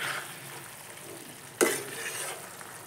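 Pointed gourd and small fish curry with potato is stirred in a pan, a soft steady simmering hiss broken by one sharp scrape of the spoon midway.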